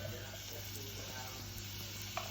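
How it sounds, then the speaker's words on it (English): Diced white onion frying in vegetable oil gives a steady, close, broadband sizzle that holds evenly throughout, with a faint clink near the end. "And then I'm going to go in with half a diced white onion"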